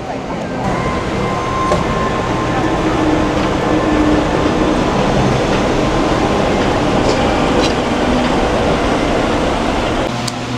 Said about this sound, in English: But now, monorail.